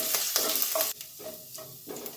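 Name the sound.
ginger frying with mustard seeds in pan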